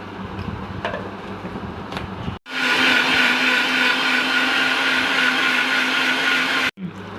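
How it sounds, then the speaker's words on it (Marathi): Kitchen mixer grinder whirring loudly as it grinds soaked fenugreek dosa batter, a steady high motor whine running for about four seconds between quieter pauses, no speech. "आता ती वाटून घेऊया."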